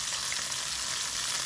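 KFC-style chicken pieces frying in hot oil, a dense, loud, unbroken sizzle that holds steady throughout with no voices.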